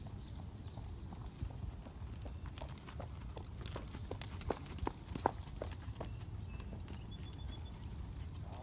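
Horse hooves clip-clop steadily over ground during a training session, a mare walking with occasional quicker steps, the low rumble of outdoor ambience underneath and faint voices in the background.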